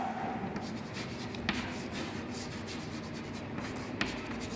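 Chalk or marker writing on a board during a maths lesson, soft continuous scratchy strokes with a couple of sharp taps, steady and close.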